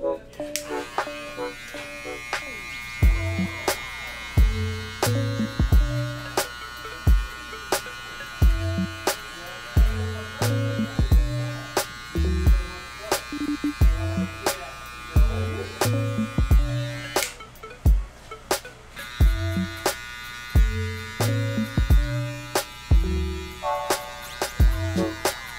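Apex electric hair clippers with a taper blade buzz steadily close to the microphone while cutting a bald fade, a constant motor hum broken by repeated sharp clicks and some speech.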